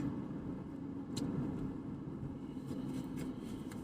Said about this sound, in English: traffic is not too bad this morning